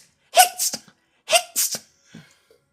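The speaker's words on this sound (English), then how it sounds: "You act like you've never heard my sneeze before." Two sharp human sneezes in quick succession, close and loud, each with a sharp intake and burst, followed by a faint breathy sound.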